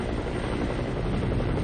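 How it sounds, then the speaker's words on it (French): A Red Cross helicopter in flight over southern Afghanistan toward Kandahar, its rotor and engine making a loud, steady, unbroken drone throughout with no voices. "J'essaie maintenant d'atteindre la frontière iranienne et le sud de l'Afghanistan dans un hélicoptère de la Croix-Rouge."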